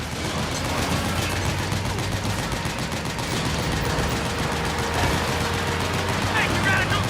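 Sustained video-game gunfire from Metal Gear Solid 4 as shots are aimed at a gate, a dense, loud, continuous rattle of automatic weapons with battle noise throughout, under occasional shouted voices.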